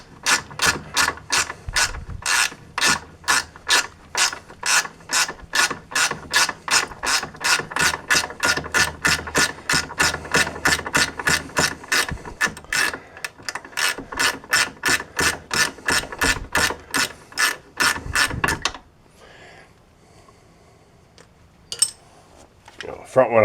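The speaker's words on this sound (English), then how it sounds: "Use a ratchet wrench." A ratchet wrench clicks rapidly and rhythmically while working on the front axle of a 2001 Polaris Sportsman ATV, long runs of close, loud clicks with a short pause, then stopping into quiet near the end.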